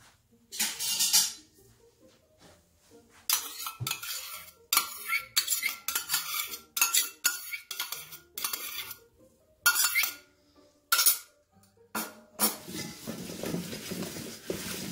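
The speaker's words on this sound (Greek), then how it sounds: "Ανακατεύουμε καλά." A spoon clinks and scrapes briskly against a bowl while oil and mustard are stirred into a marinade for pork neck steaks, with rapid, repeated metallic chinks and short pauses between bursts.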